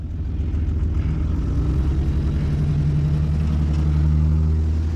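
A two-wheel-drive van pulls away across wet grass, its engine rumbling steadily at close range, with low revving that holds for several seconds and no talking.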